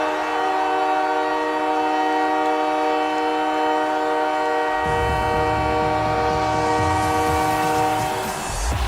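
The goal horn at the Montreal NHL hockey arena sounds as a loud, sustained, train-like blare. Partway through, a roaring crowd and rising music swell beneath the steady horn.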